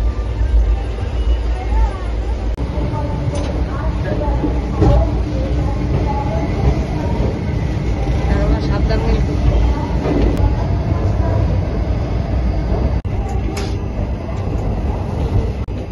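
A train rolls into Kharagpur railway station with a loud, steady rumble and clatter of wheels and carriages, and a murmur of passengers' voices underneath.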